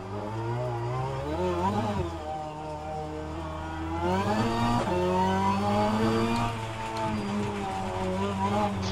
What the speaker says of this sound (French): On entend les pneus sales